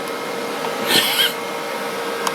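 Loud old PC cooling fans give a steady, airy whir throughout, with a brief louder vacuum-like whooshing surge near the start before settling back to the constant drone.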